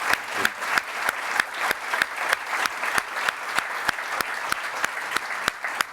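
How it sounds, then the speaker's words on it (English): A small audience at a corporate speaker series gives guests Deepak and Fred a round of applause, with sparse, distinct claps forming a loose, steady rhythm throughout. "How about another round of applause for our guests today,"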